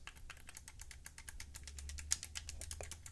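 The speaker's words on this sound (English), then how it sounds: "you can also hear that there's a little bit of a clicky sensation on the A, B, X, Y buttons" Rapid, crisp plastic clicks from the A, B, X, Y buttons of a Razer Wolverine Tournament Edition controller pressed in quick succession, close up and steady, with no voices.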